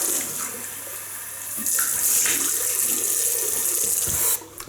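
Bathroom tap running steadily to rinse a Merkur 45 Bakelite double-edge razor, water splashing louder midway as the blade goes under the stream, then cutting off.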